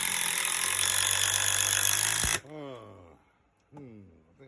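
A DeWalt impact drill drives a screw into wood with a loud, close, continuous rattling whir that cuts off sharply at about 2.4 seconds. Someone speaks afterward.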